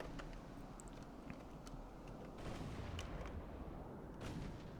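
Heavy cruisers firing their guns in the naval game Ultimate Admiral: Dreadnoughts: distant booming salvos roll over a constant low rumble, several dull thuds spaced irregularly, with no voices.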